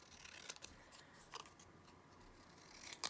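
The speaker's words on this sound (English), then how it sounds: "I'm going to cut the edge off" Scissors snipping the edge off a paper label for a junk journal page, a few faint crisp cuts at close range in a quiet room.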